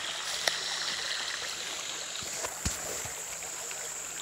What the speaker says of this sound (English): that's where my creek goes to